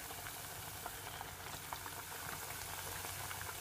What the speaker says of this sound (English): You would have crushed all of your plantains and you would have returned them back to the oil and fry for another 2 to 3 minutes